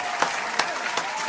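Applause comes from a crowd, a steady rush of clapping at moderate loudness, with a few sharper claps standing out at regular intervals over the short span.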